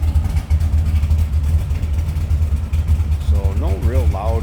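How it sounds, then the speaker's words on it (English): A 1968 Chevrolet Impala two-door hardtop with a mild cam idles steadily from behind, a low, lumpy rumble without a loud exhaust, while someone talks briefly near the end. "I'm going to slip out so you can hear this car run from behind."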